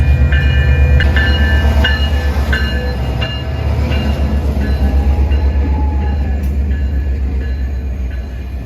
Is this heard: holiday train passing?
yes